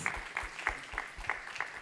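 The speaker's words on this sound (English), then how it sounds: "Can we have a hand of applause for that incredible gentleman?" An audience at a healthcare AI symposium applauds in a short burst of clapping, with rhythmic claps close by over a soft background wash, no talking.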